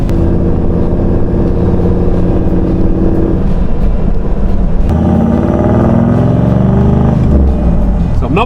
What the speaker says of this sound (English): it sounds like it's making boosts.